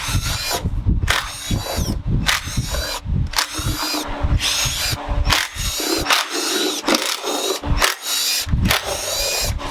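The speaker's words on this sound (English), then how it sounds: "we can crack loose all the rest of the bolts" A power tool spinning loose the timing cover bolts on a cheap car, a loud close whirring buzz in repeated short bursts with brief pauses between them.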